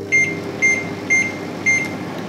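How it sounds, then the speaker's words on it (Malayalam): A microwave oven heats frozen puttu and kadala curry, giving four evenly spaced high beeps over a steady low hum. "നമുക്കിത് മൈക്രോവേവിൽ ഒരു 4 മിനിറ്റ് വെക്കാം"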